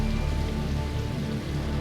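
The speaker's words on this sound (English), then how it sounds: "Heavy winter rain is wreaking havoc on Highway 1." Heavy winter rain pours steadily onto Highway 1, a dense, unbroken hiss of downpour close by with no pauses.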